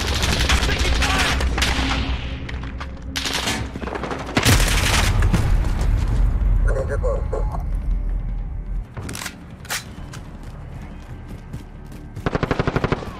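Bursts of automatic gunfire and booming shots from a Call of Duty Modern Warfare team deathmatch, loud and close, in dense volleys with brief pauses and a final rapid burst, with a few voices in between.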